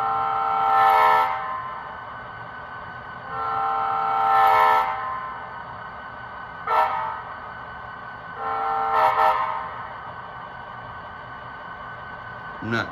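A Bachmann GP35 HO-scale model locomotive with a DCC sound decoder blows its horn in four separate blasts, two long and two short, loud and close with nothing else heard between them.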